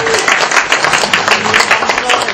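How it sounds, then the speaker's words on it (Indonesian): Audience applause for five speakers at a debate between a Muslim convert and a pastor, with dense continuous clapping from a crowd filling the whole moment, fairly loud and steady. "Tepuk tangan kepada 5 pembicara kita."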